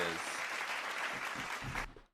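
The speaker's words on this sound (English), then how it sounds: "I couldn't hear you because the applause was so loud" Live studio audience applause, a dense burst of clapping that holds steady, partly under a voice near the start, then cuts off abruptly at the end.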